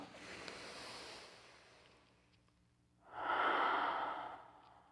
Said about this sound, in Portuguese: Primeiro, eu vou demonstrar como é que é uma respiração apical.